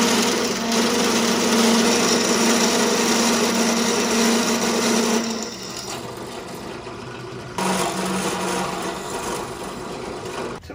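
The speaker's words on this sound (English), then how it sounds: "drilling 1/2-inch holes is probably my least favorite thing to do" A drill bores half-inch holes in metal pieces, a loud grinding rasp with a steady motor whine that cuts off partway, then starts again for a second run; no one speaks.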